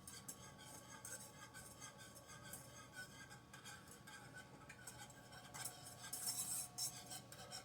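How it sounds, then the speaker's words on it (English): Metal whisk scraping and clinking steadily against a pot as a strawberry pie sauce is stirred, a continuous busy rhythm with a brighter clatter near the end. "Need to whisk this constantly from clumping or scorching"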